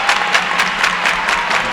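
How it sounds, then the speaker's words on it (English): A crowd at a high school basketball trophy presentation applauds in a short, dense burst of clapping with rhythmic peaks, loud and close, with no talk over it. "And we'll let you hear the crowd."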